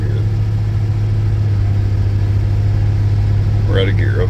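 A 1966 Ford Bronco's engine idles steadily and close after conversion to e-fuel as a temporary fix for a worn fuel pump, with a low, even hum holding the whole time.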